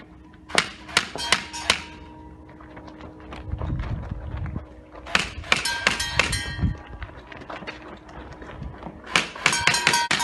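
Airsoft gun shots striking a target in a short test, sharp clattering bursts of rapid impacts in three clusters with softer thuds between, close and fairly loud.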